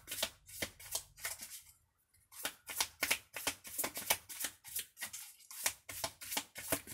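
Playing cards shuffled for a card reading, a run of quick riffling bursts in rapid rhythm with a brief pause near the start, close and fairly quiet with no talk.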